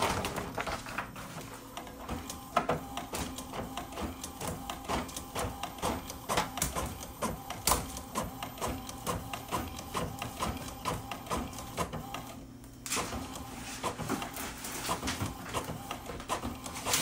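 An inkjet printer runs through a print of the back of a baby onesie in a craft setup, its steady mechanical whirring and rhythmic carriage clicks continuing close and loud, with a brief pause near the end.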